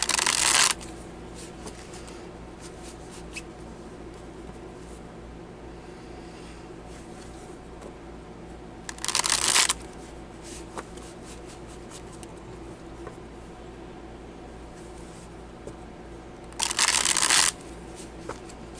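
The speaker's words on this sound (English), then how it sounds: "Now hopefully you see me shuffle these cards one more time for good measure." A deck of cards is riffled three times in separate quick bursts spaced several seconds apart, each brief crisp flutter loud against a quiet room hum.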